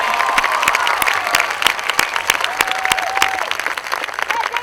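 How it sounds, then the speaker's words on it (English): Sustained applause from a large audience at a high school graduation ceremony, dense and even throughout, with a few faint cheers and murmuring voices mixed into the clapping. "Please give them all a round of applause"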